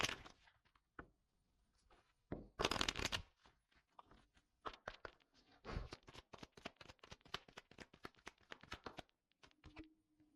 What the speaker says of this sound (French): je vais prendre quelques cartes, juste 3 cartes